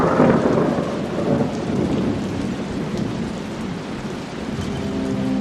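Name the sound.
thunderstorm with strong wind and rain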